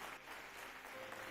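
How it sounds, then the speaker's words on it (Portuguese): Church congregation clapping after the pastor calls for applause, a brief, steady wash of hand claps filling the room at moderate level without pause. "Palmas para eles,"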